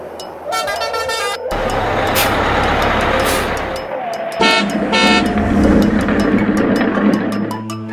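A toy bus horn honks in a rapid series of bright toots at the beginning and again midway, loud and close. Continuous motor whir and rumble from the toy fill the rest, with no talking.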